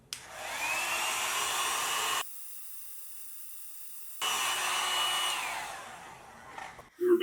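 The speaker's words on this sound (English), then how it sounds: "You're going to need a heat gun, or in my case, a very simple hair dryer." A simple handheld hair dryer blows steadily while heating adhesive on a Fanatec steering wheel base quick release, a loud, even whoosh that cuts off for about two seconds, then resumes before winding down.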